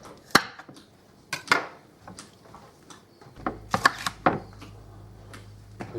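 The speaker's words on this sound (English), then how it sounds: "we'll just cut this up as well" A knife chops spring onion on a cutting board in sharp, irregular knocks, a few quick strokes, then a pause, then another cluster of cuts, close and crisp over a quiet background hum.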